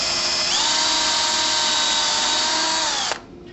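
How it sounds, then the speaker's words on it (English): A power drill whines at a steady high pitch for about three seconds, pre-drilling a hole through a header and shutter track leg, then winds down abruptly and stops. "we'll take our drill"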